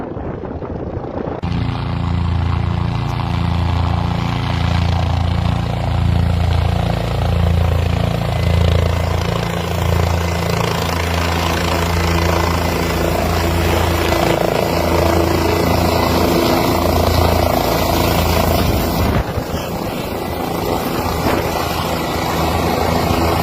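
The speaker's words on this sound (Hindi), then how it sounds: "ये देखिए हेलीकॉप्टर पहुंच रहा है।" A helicopter arrives in Kucera, Nagaur, its loud rotor thump and turbine roar building in close and holding steady, with wind-like rush over the engine drone.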